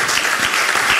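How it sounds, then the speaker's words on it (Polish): Audience applause for award laureates at the Przedsiębiorcze Jaworzno 2021 business chamber final gala, a dense, steady wash of many hands clapping close and loud throughout, with no voices over it. "za to dla wszystkich laureatów tegorocznego konkursu ogromne brawa"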